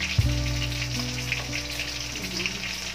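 Fish sizzles and fries in hot oil for escabeche, a steady close crackle with a faint hum in the background.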